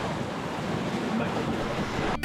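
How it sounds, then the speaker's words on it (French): Ocean waves and wind surround a sailboat crossing the Gulf Stream toward the Bahamas in roughly 15-knot breezes, a continuous rushing wash of water and gusting air buffeting the microphone, ending in an abrupt cutoff. "il y a de la vague, c'est le Gulf Stream et c'est l'océan"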